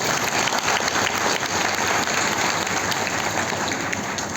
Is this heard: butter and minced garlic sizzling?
no